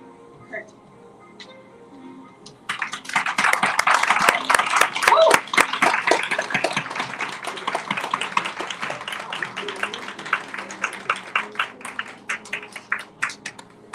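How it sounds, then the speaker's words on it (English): An audience applauds actors after a play reading: quiet room tone gives way to a sudden burst of dense clapping that holds steady, then thins into scattered individual claps toward the end. "one more round of applause for these actors"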